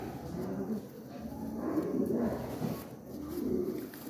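Pigeons kept as pet birds coo softly in a few low, rolling phrases at close range, faint and unhurried, with light background noise and no clear talk.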